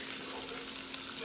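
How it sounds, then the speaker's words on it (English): Salt pork fries in hot grease with a steady, faint sizzle and crackle that carries on unbroken, with no voices over it. "when you are frying your salt pork,"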